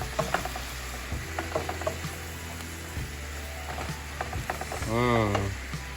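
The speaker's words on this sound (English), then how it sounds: "let me go ahead and mix this with both hands, and I need the other hand to hold the pan" Red and green peppers sizzle in a hot pan on a hibachi-style home cooktop, with scraping stir strokes and clattering utensil knocks at an uneven rhythm, close and moderately loud, along with a brief tonal squeak near the end.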